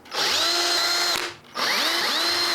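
A power drill whirs in two bursts, its pitch dropping as it bites into a pumpkin, with a brief pause between runs. Close and loud.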